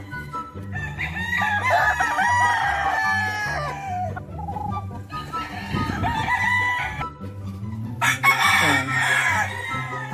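Fighting gamecock roosters on a mountain farm crow in long, loud calls one after another, with clucking and clucks between crows and several birds close by.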